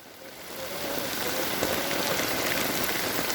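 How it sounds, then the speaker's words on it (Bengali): Heavy rain pours down onto a river during a storm, a dense, steady hiss of drops striking the water that swells slightly in the first half second and then holds constant and close throughout, with no voices. "প্রচুর পরিমাণ বৃষ্টি হচ্ছে"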